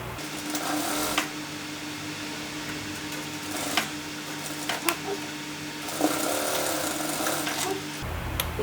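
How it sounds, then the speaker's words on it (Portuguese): A sewing machine stitching the side seam of a dress, a continuous quiet mechanical whir running throughout with a few small clicks and knocks, no talking. "E então passar uma costura de um lado até o outro."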